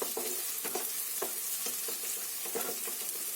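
Onion frying in oil in a pan for cabbage masala, a steady soft sizzle broken by repeated light stirring clacks of a spatula, fairly close and alone without voices.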